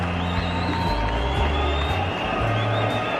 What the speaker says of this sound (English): Disappointment in the crowd.